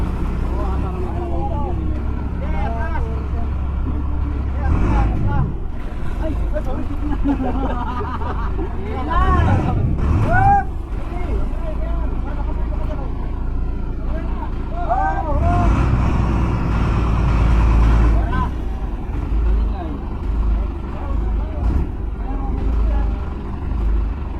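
A boat with a B6 engine running in a steady low, loud drone, with people talking and calling out nearby throughout.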